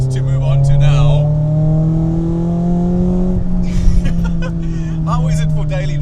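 Nissan S15 Silvia rolling over a bumpy road, heard from inside as a steady, droning engine note that holds fairly level, with people talking over it at the start and again toward the end.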